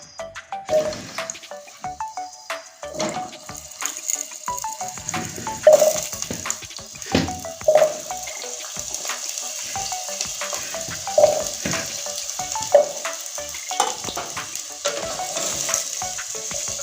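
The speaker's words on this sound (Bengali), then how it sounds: "এই আলুটা আমি এখন লাল করে ভেজে নেব" Cut potatoes fry in a pan of oil with a continuous crackling sizzle, broken by repeated utensil clinks and stirring knocks across the whole stretch, and nobody speaks.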